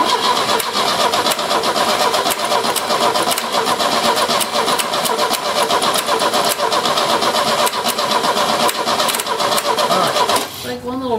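An Opel GT engine firing up for the first time in 30 years, running loud and rough for about ten seconds before abruptly cutting out, with voices faintly underneath.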